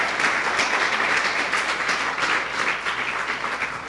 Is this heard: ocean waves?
no